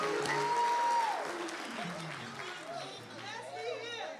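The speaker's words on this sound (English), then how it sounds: "Let's give a hand clap for the choir this morning, everybody." A church congregation at a Sunday morning service claps for the choir, mid-level applause with murmuring chatter, and a voice speaks over it.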